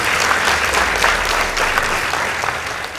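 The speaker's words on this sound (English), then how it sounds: "Please give them a round of applause." An audience at a school debate contest between Alliance High School and St Anne's Lioki Secondary gives a round of applause: continuous, dense clapping from a hall crowd, loud and steady across the whole span.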